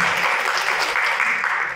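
Audience applause at a 2023 university innovation forum session, a steady wash of many hands clapping together, fairly loud and continuous throughout with no talking over it.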